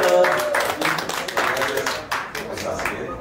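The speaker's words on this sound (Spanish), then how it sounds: "Y ahí un aplauso, por favor" An audience applauds a magician with a burst of scattered handclaps that begins strongly and then thins into looser, uneven clapping.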